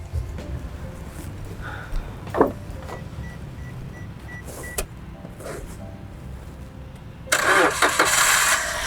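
A car engine cranks and catches after a radiator check, a sudden loud starting roar that settles into a steady running note, preceded by a few clicks and small handling noises.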